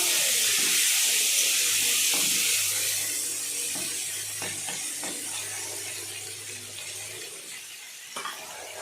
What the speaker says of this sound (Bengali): তেলটা একদম গরম হয়ে গেছে এবার মাছগুলোকে দিয়ে দেবো মাছগুলো দিয়ে দিয়েছি